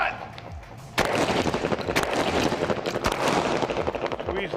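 Pistol and laser gunfire in a first-person shooter game crackles in dense, loud bursts with sharp reports, layered under voices talking.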